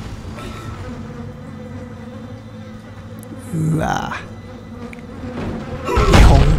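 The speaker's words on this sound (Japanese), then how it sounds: "めっちゃハエが飛んでるな。" Swarming flies buzz steadily through a dim corridor in the Dead Space video game, a dense insect drone layered over low ambient hum, with a short exclamation and a heavier thump-like swell near the end.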